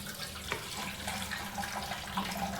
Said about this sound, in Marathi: आता एका चाळणीत आपण हे गाळून घेणार आहे.